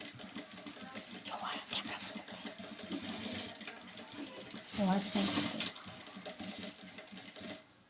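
A sewing machine stitches a canvas-backed blouse design with a steady, fairly quiet mechanical whir while someone talks over it.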